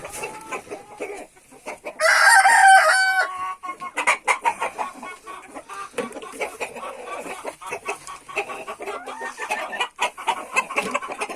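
Chickens cluck and a rooster crows loudly close by, with scattered clucking and farmyard noise continuing throughout.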